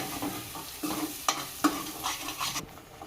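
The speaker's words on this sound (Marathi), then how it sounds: "हे वाटण आपण चांगले परतून घेऊ, तेल सुटूस्तर।" Spice paste sautés in hot oil in a pan, a steady close sizzle broken by several scraping stirs and taps of a utensil over about three seconds, with no speech.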